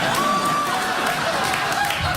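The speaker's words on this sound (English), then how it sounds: "No, that was genuine applause right there." Late-night talk show studio audience breaking into sustained applause, a dense even wash of clapping with crowd noise that holds steady and loud throughout.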